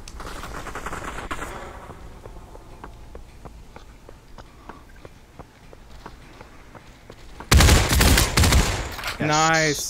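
Rapid gunfire from the VR shooter Population: One, a long run of evenly spaced shots crackling through the first part, then louder bursts and a voice near the end.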